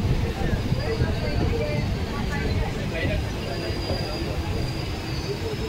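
Hazarduari Express (13113 Kolkata–Lalgola) at platform 3 of a station, giving a steady loud rumble of train and wheel noise with faint squeal, under a busy platform din.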